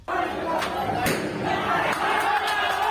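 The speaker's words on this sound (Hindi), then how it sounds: "वहां महिला उम्मीदवार की जीत पर समर्थकों की भारी भीड़ बधाई देने के लिए उनके घर पहुंच गई।" Large crowd of supporters celebrating a woman candidate's election win at her house in Uttar Pradesh, a dense continuous roar of many voices with shouts and a few sharp thuds, loud and close throughout.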